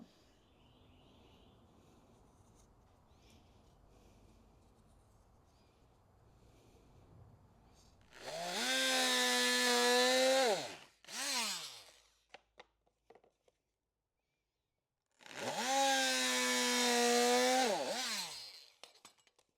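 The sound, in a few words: sawing a piece of wood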